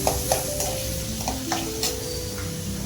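Onions sautéing in a pan for chicken kolambu, a steady close sizzle with light rhythmic stirring scrapes of a utensil against the pan.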